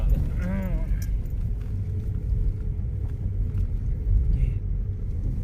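Car rumbling along a very rough, badly broken road, with a constant heavy low road-and-engine roar throughout, brief bumps and rattles, and faint voices in the background.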